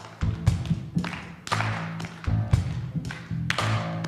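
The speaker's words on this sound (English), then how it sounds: "So you could just clap," Audience clapping at a CSL Las Vegas 2019 session, rhythmic bursts of claps in a steady beat with a strong thumping low end, repeated several times close and fairly loud.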